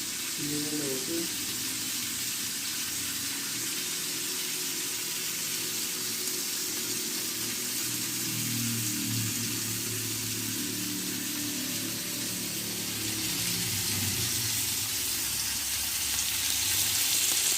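Chicken stick tikka frying in a pan gives a continuous soft sizzle and crackle throughout, with a voice talking over it at times.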